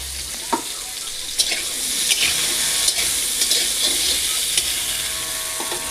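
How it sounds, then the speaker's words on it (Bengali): Pointed gourd (potol) slices sizzle steadily in hot oil in a home kitchen, with occasional sharp scrapes and clicks as a utensil stirs them. "এখন পটল ভাজা হচ্ছে।"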